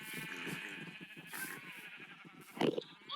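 A goat bleats in the Minecraft video game, a short wavering cry repeated over a soft low background, followed by a brief sharper sound near the end.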